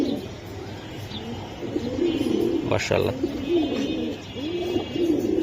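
Giribaz pigeons coo in soft, repeated throaty rolls nearby, close to the listener. Someone talks over the calls and exclaims once.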